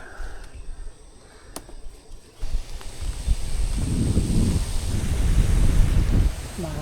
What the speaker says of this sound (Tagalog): medyo mahangin po ngayon